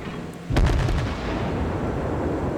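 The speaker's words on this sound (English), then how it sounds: "So I put out the remainder of my broadside and wait to see what happens." Warship main-gun broadside salvo in a naval video game, one heavy booming blast that hits suddenly with a deep rumble, then a long rolling tail of reverberation.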